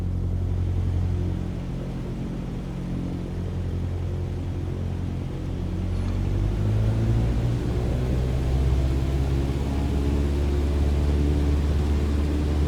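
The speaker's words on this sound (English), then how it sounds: "Apply full power and I'll walk you through the takeoff as we go." A light training aircraft's engine runs at full power on the takeoff roll, a low steady droning rumble that swells and rises in pitch as it builds speed, heard alone without talk.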